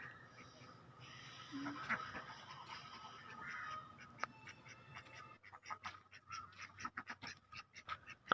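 A pet duck, paired with a white duck, gives a rapid run of close, clipped quacks in the second half, after a quieter stretch of soft background noise and scattered calls.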